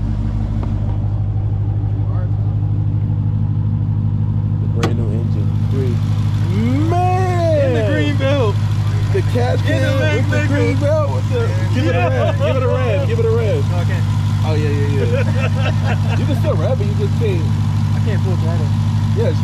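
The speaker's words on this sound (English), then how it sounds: "It's a brand new engine." Brand new Jeep Trackhawk engine idling with a steady low hum, loud and close, while people talk over it throughout.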